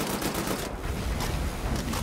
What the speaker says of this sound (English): the fire rate on this assault rifle is a lot slower